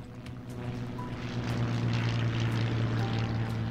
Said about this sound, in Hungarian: Mit csinál itt repülő?